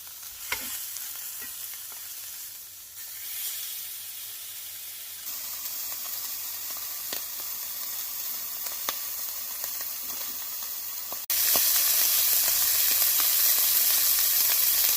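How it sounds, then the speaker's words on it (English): Filet mignon steaks searing edge-down in a cast iron skillet, a continuous close sizzle and hiss with occasional sharp spits and crackles, growing noticeably louder partway through. "Sear that side up, that edge"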